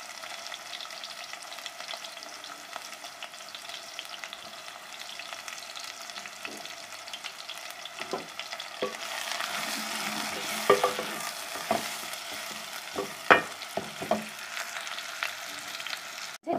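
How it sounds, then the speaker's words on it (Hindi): Chopped onions frying in hot ghee in a pan give a steady soft sizzle. Scattered scrapes and clinks from stirring grow louder toward the end, close by with no talking. "घी गरम हो गया है जी, इसमें प्याज शामिल करते हैं।"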